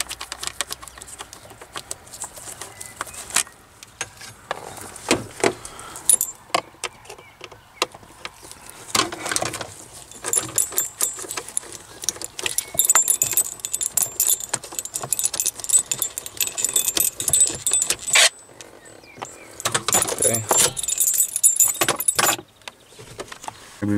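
Torx T20 wrench unscrewing screws on the lower cover of a Mercedes Vaneo W414 dashboard, repeated metallic ratcheting clicks and rattles in bursts across the clip, close and fairly loud.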